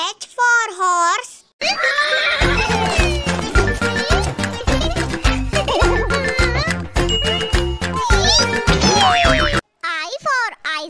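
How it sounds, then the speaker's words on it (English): A horse whinnies in shrill, wavering bursts at the start and end of a children's alphabet rhyme, framing a busy stretch of bouncy music and sound effects. "H for horse."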